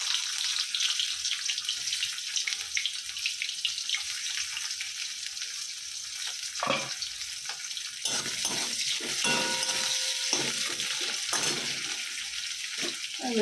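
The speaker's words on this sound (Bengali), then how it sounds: "লঙ্কা ফোড়ন দিয়ে দিয়েছি" Chillies and onion fry as a tempering in hot oil in a pan, giving a continuous hissing sizzle at moderate level, with a few brief knocks and clinks partway through.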